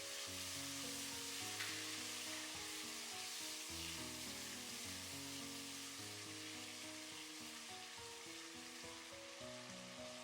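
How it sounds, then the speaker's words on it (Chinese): Clams are stir-fried in a wok with soybean paste, light soy sauce and oyster sauce, giving a steady loud sizzle with continuous tossing underneath and tonal background hum throughout. "炒香后加入1勺黄豆酱，少许的生抽，适量的蚝油，继续翻炒，炒出酱香味"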